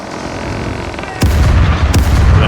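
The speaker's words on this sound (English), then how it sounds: "Sometimes the cannons just take way too long to shoot." Two heavy ship cannon shots in the Caribbean Legend video game boom close and loud about a second apart, each leaving a low rumbling tail over quieter background sound.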